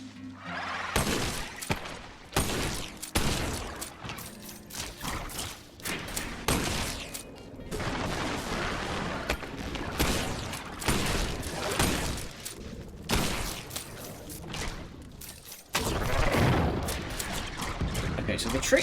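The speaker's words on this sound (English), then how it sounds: "these flame bullets are the business" Flame bullets firing in the wizard shooter Wizard With A Gun, sounding as rapid irregular bursts of shots and crackling impacts that run almost continuously, fairly loud, with a heavier burst near the end.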